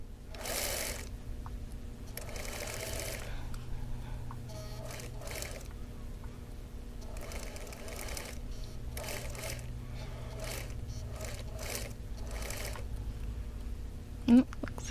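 A sewing machine stitches quilt block pieces together with a steady, fairly quiet mechanical whir running throughout, while someone talks over it in short phrases.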